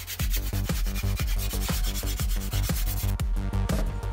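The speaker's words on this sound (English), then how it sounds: "And then some more sanding." Rhythmic back-and-forth sanding of spot putty on a prop scepter part, a loud close scratchy rubbing repeated in steady strokes about twice a second throughout.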